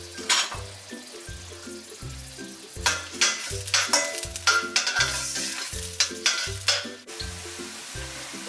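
Chopped onions frying in a pot for lentils and rice (khichri), a steady loud sizzle broken by repeated scraping stirs, with no talking.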